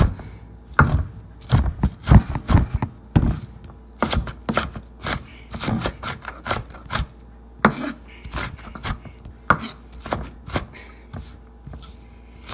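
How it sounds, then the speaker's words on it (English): Repeated knife chops on a cutting board as vegetables are cut coarsely for a homemade soup, irregular close sharp knocks in uneven bursts with brief pauses, no talking. "you don't have to chop everything real fine because you want it to be where you can see the vegetables"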